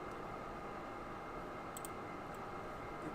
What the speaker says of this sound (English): You're hearing my fan.